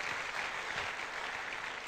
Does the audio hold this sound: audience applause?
yes